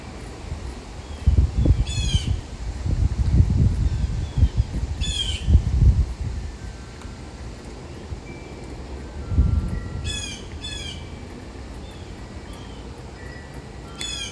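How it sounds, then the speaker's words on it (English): Birds call and squawk on a stormy morning, with several sharp, crow-like caws standing out at intervals over rustling and low rumbling background noise; no one speaks. "The birds are really talking here this morning."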